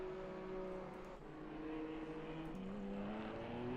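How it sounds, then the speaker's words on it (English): A Porsche race car engine drones steadily in the video game Assetto Corsa Competizione, its pitch holding and then rising through gear changes, faint and continuous with no talk. "It's this Porsche I could hear carrying on."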